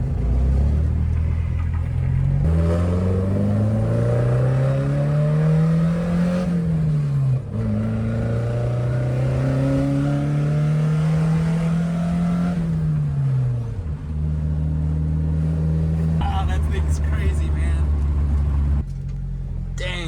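A Datsun 510 engine revved repeatedly toward its redline near 6,000 RPM, loud and close, with long rising and falling pulls that hold at high revs before dropping back to a rough idle.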